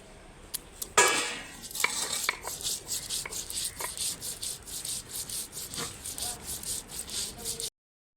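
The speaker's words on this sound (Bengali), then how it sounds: "আমি পাতুরির জন্য শস্যটা বেটে নিচ্ছি। আদা, কাঁচা লঙ্কা, শস্য একসঙ্গে বেটে নেব।" Mustard seeds, green chilli and ginger ground together on a grinding stone, a repeated rhythmic rubbing and scraping of stone on stone, close and fairly loud, with a few sharp knocks near the start.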